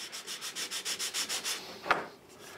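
Delicate hand sanding of burn marks on a laser-cut wooden medallion: about a dozen quick, even rubbing strokes in steady rhythm, close and fairly quiet, then a brief knock and stillness.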